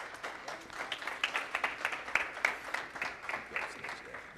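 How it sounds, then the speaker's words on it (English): An audience at a college prep workshop applauds to welcome a speaker, a moderate, evenly pulsing patter of many hands clapping that holds steady for several seconds in a room. "everyone. Clap it up."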